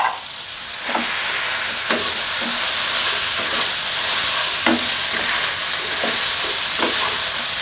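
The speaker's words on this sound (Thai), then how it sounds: "ผัดให้ผักสลดก่อนนะครับ" Kale and cabbage stir-fried in a pan with instant noodles, a steady loud sizzle with scraping stirs every second or so, with no talking.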